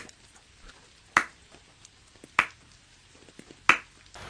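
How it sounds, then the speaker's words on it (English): A Transformers toy's spring-loaded body snaps shut three times at even intervals, each a sharp, close plastic clap ringing briefly in a quiet room. "His spring-loaded body clamps him up every chance it gets."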